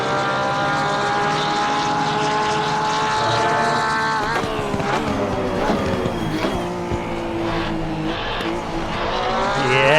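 Porsche race car in the Assetto Corsa sim racing game at the Red Bull Ring, its engine droning loudly and steadily with strong harmonic tones that dip and climb through gear changes, other cars' engines mixed in.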